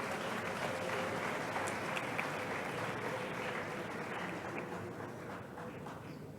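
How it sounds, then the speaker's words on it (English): Steady, fairly distant crowd applause fills a large anniversary ceremony hall for a faculty of renewable natural resources, sustained evenly throughout without talk. "A round of applause for that."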